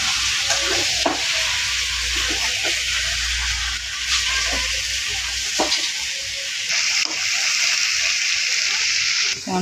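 Meat and potatoes sizzle steadily while being braised in a pan, with occasional stirring and scraping of a spoon, continuous and fairly close throughout.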